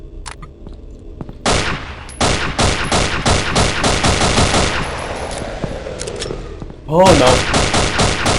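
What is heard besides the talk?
P228 pistol gunshots in video game Afraid of Monsters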